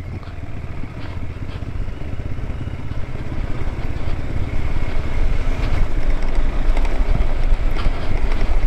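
A KTM 390 Adventure motorcycle crawling in first gear on an off-road hill, its engine a low steady rumble mixed with wind buffeting, growing slightly louder over time.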